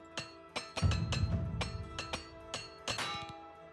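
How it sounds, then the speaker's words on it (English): Hammer strikes while repairing equipment in Oblivion Remastered, a series of about eight sharp metallic clinks at an uneven rhythm, close and clear over a faint hum. "Very scared every time I hammer."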